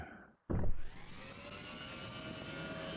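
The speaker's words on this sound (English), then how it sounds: "So we're in a Chinook." A Chinook helicopter in a VR flight game gives a brief click, then a short thump, then a steady whooshing turbine drone that holds at an even level.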